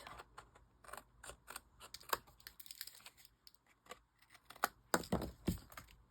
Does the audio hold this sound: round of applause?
no